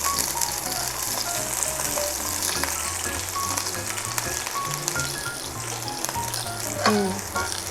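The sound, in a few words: onions sizzling in a hot pan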